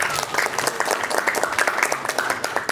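An audience claps steadily for team A at a school quiz semifinal, dense even applause close by with faint murmur, lasting throughout.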